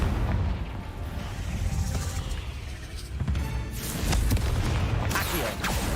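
A Confringo fire-blast spell detonates in Hogwarts Legacy, a loud, sustained booming roar of explosions with crackling bursts that swells again toward the end over game noise.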